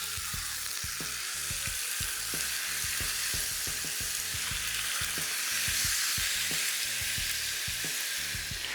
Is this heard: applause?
no